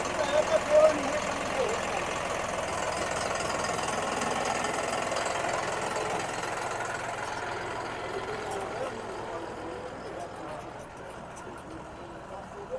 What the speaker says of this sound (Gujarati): જો અમારે ટ્રેક્ટર આવી ગયું મગ વાવવા હાટું ઓલે છેડેથી ચાલુ કર્યું છે